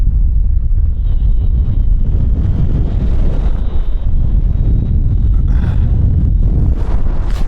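West wind rushing over a paraglider in flight in the Himalayas: loud, continuous roaring buffets against the microphone with no break, and a faint whine running underneath.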